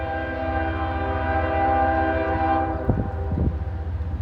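Eastbound Norfolk Southern freight locomotives rumble past up close with a sustained horn blast that cuts off near the end, leaving the rolling train noise and a few gusty bumps.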